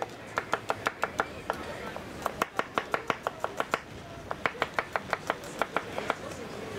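A knife chops garlic on a board in quick, crisp taps, about thirty sharp close strikes in rhythmic bursts with brief pauses, against quiet room noise.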